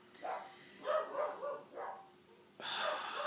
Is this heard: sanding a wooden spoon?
no